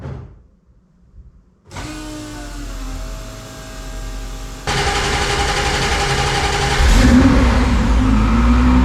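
A modified Mazda MX3 race car fitted with 1000 HP axles fires up after a short quiet stretch, then idles roughly and revs louder as it pulls away nearby, growing in intensity toward the end.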